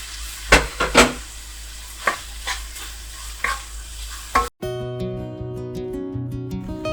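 Chopped carrots stir-fry in a pan for spicy chicken pasta, a sizzling bed punctuated by several loud spatula scrapes and tosses, cutting off abruptly into music.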